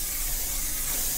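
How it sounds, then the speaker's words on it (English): Spray tan mist hisses from an applicator onto a wrestler before a show: one short, steady, close spray with no talking. "Time to spray tan my brother."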